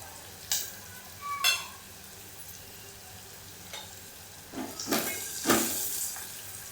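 Crushed garlic goes into hot oil for a spicy chickpea amti, giving a faint, low sizzle with a few scattered stirring clicks and a fuller hiss near the end.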